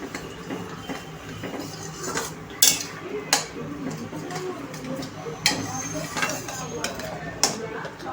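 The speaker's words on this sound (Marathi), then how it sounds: "छान असं तेलावर हे परतून घ्यायचं आहे." Ground spice paste (vatan) sautéing in oil for a potato curry gives a low sizzle under repeated sharp clinks and scrapes of a spoon against the pan.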